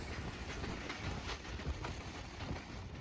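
Pakistan Express train rolling along a branch line in rural Punjab, a steady rumble with faint rhythmic clickety-clack of wheels on rail joints, continuous and fairly near, no talk.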